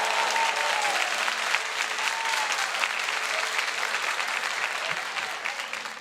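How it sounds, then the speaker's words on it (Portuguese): A church congregation applauds during an evening sermon, a dense, loud and sustained roar of many hands that tapers slightly at the end, with faint voices mixed underneath. "aplauda o Senhor"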